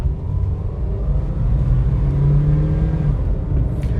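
Engine of a Toyota WiLL Vi car on a New Zealand road, a steady low rumbling drone that gradually rises in pitch as it accelerates, heard from inside the car with no talking.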